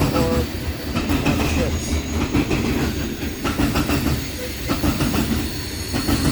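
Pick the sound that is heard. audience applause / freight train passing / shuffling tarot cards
freight train passing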